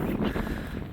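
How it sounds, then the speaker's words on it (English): Gusty wind buffets the microphone outdoors by a tidal creek on the Thames estuary marshes, a loud rumbling roar that swells and fades briefly. "Sorry if it's really windy"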